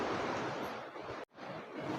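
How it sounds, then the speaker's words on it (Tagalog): A creek swollen after heavy rain rushes steadily, a dense broadband roar of water close to the microphone, with a brief dropout in the middle before the flow resumes. "Yan po guys, yung sapa dito sa amin."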